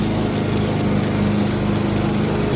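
A power tool runs outdoors while cutting pallet wood, giving a loud, steady, buzzing motor drone close by throughout without pauses and no talking.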